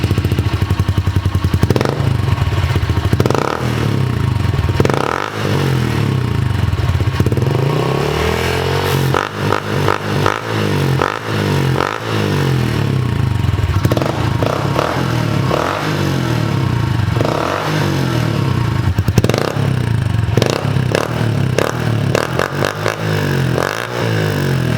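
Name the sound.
Honda CRF110 dirt bike running with FMF Factory 4.1 titanium exhaust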